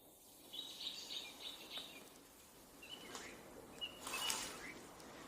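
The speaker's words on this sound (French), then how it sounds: "les oiseaux qui chantent en arrière-plan." Birds sing in a quiet forest near an abandoned castle, their faint, scattered chirps and short trills sounding from a distance over soft background hush, with no voices.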